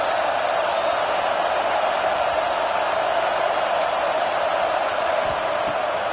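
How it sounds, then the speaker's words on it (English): Football stadium crowd noise forms a broad, steady roar from a large distant audience, constant and unbroken for the whole stretch. "This crowd trying to make life miserable for this offense."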